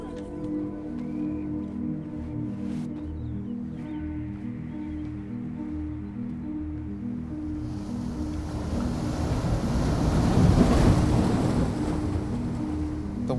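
Wind and ocean surf along a dramatic coastline, a steady gusty wash that builds louder in the second half with a broad roar of breaking waves, with no talk.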